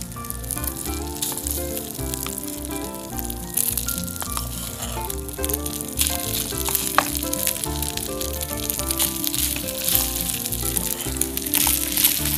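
Cooked rice frying in butter in a pan, a continuous close sizzle with crackling and scraping, steady and loud, heard under background music.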